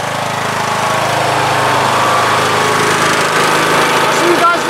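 A Briggs & Stratton 20 HP engine on an MTD Yard Machines 46-inch CVT lawn tractor runs at a steady idle, a close, even mechanical drone with no change in pace.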